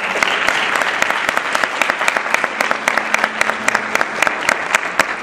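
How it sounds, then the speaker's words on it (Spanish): Audience applause at a talk on Catholics in politics, a steady burst of many hands clapping close by, dense and even for several seconds with no voices over it. "Un fuerte aplauso, por favor"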